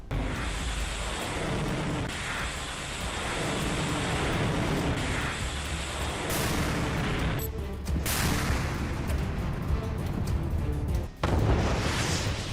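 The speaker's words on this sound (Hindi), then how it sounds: "जहां एरियल अटैक के बाद तोपखाने का मुंह खोल दिया गया।" Artillery fire in eastern Ukraine after an air attack, with repeated heavy booms and rumbling blasts scattered over a continuous noisy background, some sharper reports near the end.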